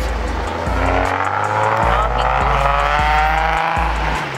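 Car at a car meet doing a burnout, engine roaring loudly and steadily with strong tire squeal throughout, close and continuous with repeated surges in revs.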